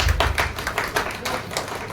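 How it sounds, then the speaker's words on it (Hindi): An audience claps along at a Buddhist monk's stage magic show where fire is lit by mantra: a steady run of sharp, fairly close hand claps in quick rhythm, with no talking over them. "ताली बजा दीजिए आप लोग"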